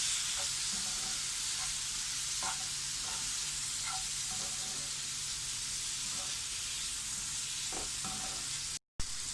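A large chopped tomato frying in a pan for a coconut fish curry gives a steady, close sizzle throughout, broken by occasional soft clicks of stirring and a brief cut near the end.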